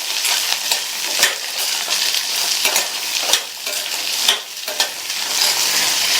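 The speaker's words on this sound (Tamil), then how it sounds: "இது கூட 150 கிராம் சின்ன வெங்காயத்தை தோல் உரிச்சு வச்சிருக்கேன், அதை சேர்த்துக்கலாம். கூடவே 6ல இருந்து 7 பல் பூண்டு சேர்த்து வதக்கிக்கங்க" Peeled shallots and garlic cloves sautéing in a pan over medium flame for a spicy onion chutney, a loud continuous hissing sizzle with occasional stirring scrapes, close and without talk.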